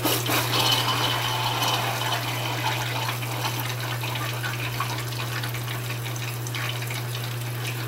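An Electrolux Premium Care 13 kg front-loading washing machine (LWI13) fills with water during a towel wash, giving a steady rushing gush over a constant low electrical hum, close and even throughout.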